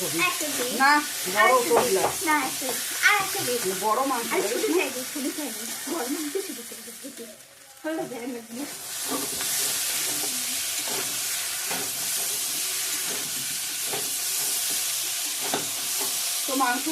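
Chicken being stir-fried down as kosha in a pan: a loud, steady frying hiss and sizzle that swells after a brief lull, with occasional stirring scrapes, following a stretch of talk at the start.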